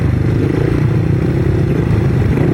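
A sidecar grasstrack racing motorcycle engine as the throttle opens, a loud, continuous low rumbling roar with mechanical clatter, close and sustained with no speech.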